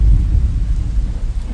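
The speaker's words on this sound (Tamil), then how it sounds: "மழை வருதுடா, துணி எடுத்து வைடா" Thunder rumbles deep and loud, with steady rain hissing over it and no voices.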